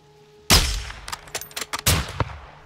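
Sharp, loud rifle reports in Call of Duty Modern Warfare II, two heavy shots about a second and a half apart, each trailed by echoing cracks and a cluster of smaller impacts.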